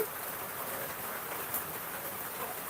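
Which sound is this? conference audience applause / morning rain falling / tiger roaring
morning rain falling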